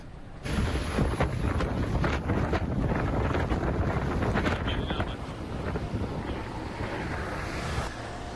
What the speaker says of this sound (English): it was on the road where you really got a sense of how strong those gusts were blowing